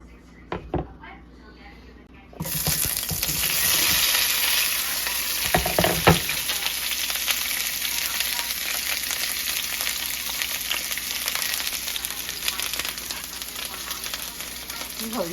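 Japanese sweet potato stir fry sizzles steadily in a hot pan, a dense continuous frying hiss that starts abruptly after a quiet moment and carries on with occasional stirring scrapes, with a voice speaking briefly over it.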